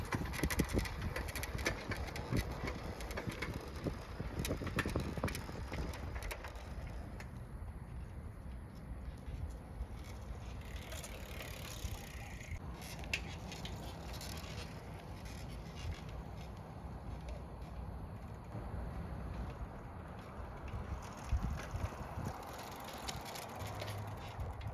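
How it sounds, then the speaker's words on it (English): Vintage Sears Free Spirit bicycle generator light kit running on a Free Spirit bike, a continuous whirring, rumbling drone from the spinning generator that holds steady throughout, close and fairly loud. "that's how the Sears Free Spirit generator light kit works on my Free Spirit bike"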